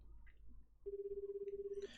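A phone call rings in the video game 428: Shibuya Scramble, a steady pulsing electronic tone starting partway through and holding for about a second, fairly loud over a low background hum.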